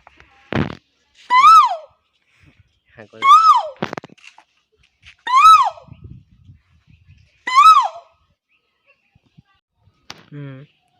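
A man imitates the call of a koel (cuckoo) bird by mouth, giving four loud, rising whistled calls at steady intervals, with a few faint clicks and soft noises between them.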